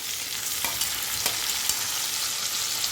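Onions and tomato fry in a pan with a steady close sizzle and a few soft scraping stirs, no voices.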